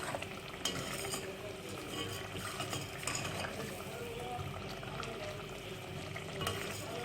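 Beef korma frying and being stirred in a pan, a continuous low sizzle with dense scraping and stirring noises throughout, fairly quiet and close.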